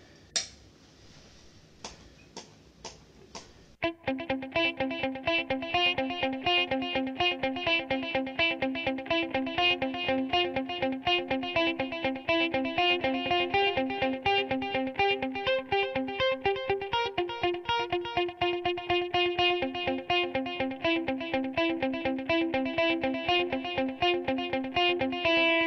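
Electric guitar played through a pedalboard delay: a few plucked notes, then a dense run of picked chords whose repeats echo and stack in a continuous shimmering wash for over twenty seconds, with no talking.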